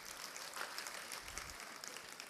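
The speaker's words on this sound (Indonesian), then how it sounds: "Tepuk tangan sama Tuhan Yesus." A church congregation at an onsite service claps together in a steady, faint wash of applause with no voices over it.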